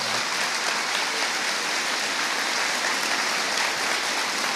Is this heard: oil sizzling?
no